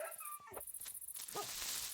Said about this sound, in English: never heard that dog sound before